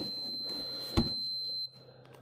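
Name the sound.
multimeter continuity beep through a brake light switch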